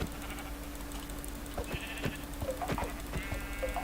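Minecraft sheep giving a few faint, short bleats, set against steady game ambience and soft clicking keyboard taps, with no talking.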